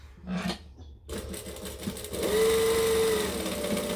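A home sewing machine stitches fabric for a wallet in a quick mechanical whir, starting after a short pause and running steady and close, with no voices.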